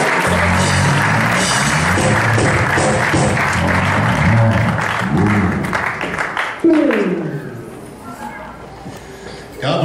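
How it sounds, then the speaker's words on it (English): Applause from a church congregation welcoming the senior pastor, dense and sustained, with voices and speech over it, fading near the end as a single voice takes over. "While we clap for Jesus."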